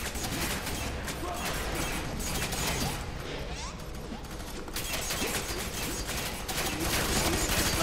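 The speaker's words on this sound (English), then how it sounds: "Shooting at my feet." Dense, crackling automatic gunfire fills the F.3.A.R. video game, a steady rattling barrage with metallic clatter that briefly thins midway before resuming at full loudness.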